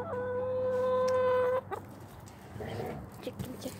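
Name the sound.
chicken clucking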